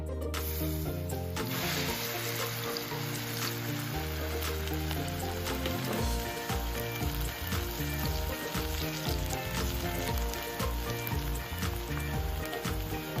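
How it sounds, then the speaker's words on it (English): Food fries again in a pan in a home kitchen, a loud, dense, continuous sizzle and crackle that stays close and steady throughout, with no talking. "We're gonna fry it again."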